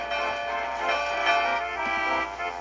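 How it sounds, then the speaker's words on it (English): A bell on a narrow-gauge railway engine rings steadily in a children's animated railway story, its bright tonal chimes sustained and fairly loud throughout, with no talking. "the bell chimed louder"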